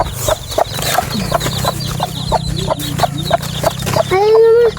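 Chicks peeping in a steady rapid series close by, with a hen clucking low underneath; a louder fluttering call rises near the end.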